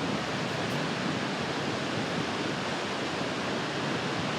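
Howick waterfall in South Africa roars as a steady, dense broadband wash of falling water, constant and fairly loud throughout with no voices.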